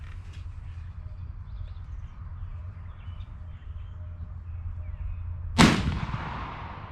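An 1853 Enfield rifle firing a Minié ball lets out one loud, sharp report near the end after several seconds of quiet outdoor ambience, the blast decaying quickly.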